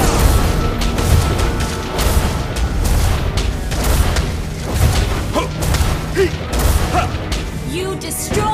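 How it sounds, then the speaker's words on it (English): A turret is destroyed in the Mobile Legends video game, a booming explosion buried in dense, loud, continuous game action and effects with no clear pause. "You destroyed a turret."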